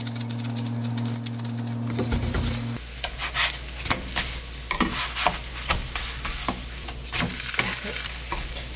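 Steady sizzling of glutinous rice cakes pan-frying over low heat, with scattered crackles and pops throughout and no talking.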